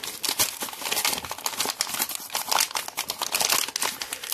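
Collector's toy packaging is torn open. Loud, close crinkling and crumpling runs continuously, dense and rough throughout the short stretch.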